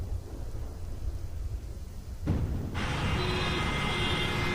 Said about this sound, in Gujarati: અત્યારે વરસાદની શરૂઆત થઈ છે